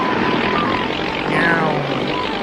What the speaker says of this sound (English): Airboats can go 70 miles an hour, but hit a rock and look out.